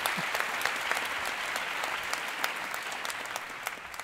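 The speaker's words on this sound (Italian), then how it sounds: "un applauso" An audience claps steadily for about four seconds, a dense patter of applause at moderate volume with no voices over it.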